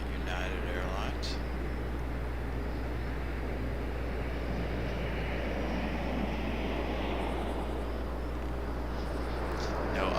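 A United Airlines airliner at Raleigh Durham International Airport at night, a steady distant jet roar with a low hum beneath, holding level throughout.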